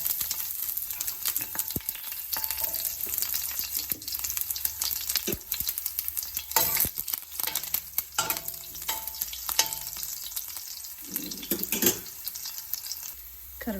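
Small onion pieces fry in a hot tempering in a pan, producing a quiet, steady sizzle broken by frequent sharp spatula clicks and stirring scrapes, with a few louder crackling bursts.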